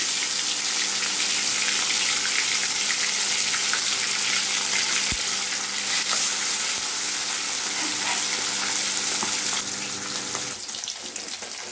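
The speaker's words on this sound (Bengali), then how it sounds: "তেল গরম হয়ে গেছে, এটা সর্ষের তেল নিয়েছি। এই কড়াইয়ে মাছগুলো ভেজে নিচ্ছি।" Sarputi fish fry in hot mustard oil in a wok with a steady, dense sizzle that carries on without a break and eases off near the end, with no voices.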